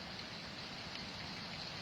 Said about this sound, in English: Oh, it started to rain again.